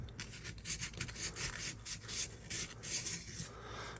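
Faint, rhythmic rubbing and rasping strokes of sandpaper with cleaning compound scrub a rusty tool, repeated back-and-forth passes close by, with no talking.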